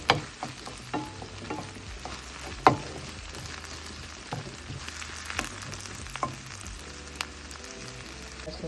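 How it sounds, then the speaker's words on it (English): Tomato paste frying in a pan for a Jamaican saltfish cook up: soft steady sizzling with scattered sharp clicks and scrapes of a utensil against the pan, close and fairly quiet, with no voices. "So just fry out this a little. I'm just going to give it a nice color."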